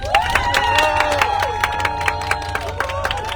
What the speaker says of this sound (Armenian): ձեր հզոր ծափերով կարող եք աջակցել